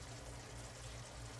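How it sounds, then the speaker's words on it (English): Water running into an emptied tomato can to rinse it out while making goulash, a short, faint, steady pouring gurgle heard close and alone. "going to add a little water to this just to rinse out the can of these tomatoes"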